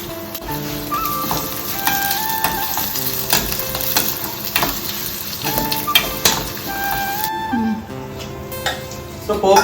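Onions and curry leaves fry in a pan with a steady, loud, close sizzle, broken by scraping stirs and clinks of a spoon, while music plays throughout.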